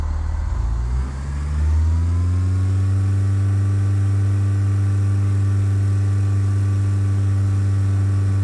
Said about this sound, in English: apply full power with the throttle or by pressing F4